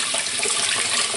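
Cold water runs steadily from a kitchen tap, a close, continuous hiss and splash filling the whole moment with no pauses or voices.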